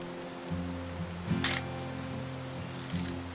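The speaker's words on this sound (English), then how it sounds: "I'm gonna take some pictures, okay?" Old camera shutter clicking in the video game What Remains of Edith Finch, two short crisp mechanical snaps over a soft steady music bed, close and fairly quiet.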